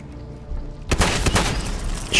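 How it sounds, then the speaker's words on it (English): Sudden heavy booms and bursts of gunfire from combat in Fallout 4 at a water treatment plant, loud and rumbling after a quiet start, with a sharp burst near the end. "I heard an explosion."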